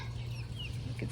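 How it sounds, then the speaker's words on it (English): Chickens cluck softly at dusk while settling into their coop, with low, faint murmuring and a few brief calls over a steady background hum. "Watching the nighttime drama of the chickens getting in the coop."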